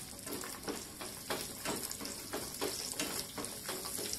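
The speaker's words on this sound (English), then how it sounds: "because we just want a nice crispy golden brown cashew nut and roasted raisins." Cashew nuts and raisins fry in a pan with a steady, faint sizzle and soft scraping from stirring throughout.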